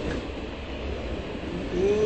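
Inside a train carriage, a steady low rumble of the ride carries on without a break, with a soft tonal squeal rising near the end.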